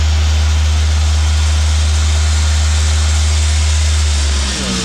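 A concrete pump truck working its hopper gives a loud, steady low drone and motor roar that holds for several seconds, then shifts and tapers near the end, close by with no clear talk.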